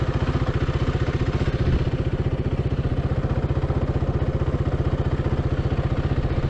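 A motorcycle rolls along at about 10 km/h, its engine putting out a loud, steady low-pitched thumping pulse throughout, with no voices.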